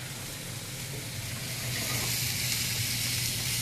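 Vegetables sizzle in a hot pan while being stirred for a sausage, eggs and hash browns breakfast, giving a steady hissing fry that swells slightly louder partway through, with no talking.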